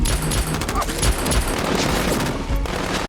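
Rapid bursts of automatic gunfire and shots ring out during a shootout in the 2016 film The Accountant, dense and loud throughout with scattered voices beneath.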